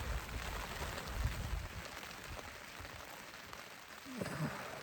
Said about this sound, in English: You can tell that it is pouring rain.